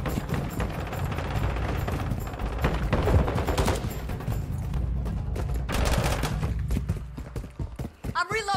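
Rapid automatic gunfire in the video game Modern Warfare 2, a dense, loud, continuous rattle with sharp bursts layered on top, under game voice callouts.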